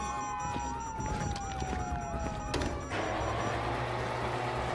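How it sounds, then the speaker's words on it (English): Police sirens in GTA 5 wail with rising and falling tones over a rumbling street background, fairly faint and distant, cut by a sharp burst partway through. "you hear that? Sirens."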